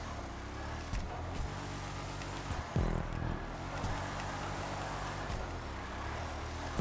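A Declasse Vamos muscle car engine in a driving game hums and shifts pitch while drifting on a track, with a brief gear-change dip near the three-second mark, steady and moderately loud.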